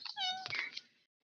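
A cat gives a single short, clear meow that rises then falls, close and fairly quiet, followed by silence.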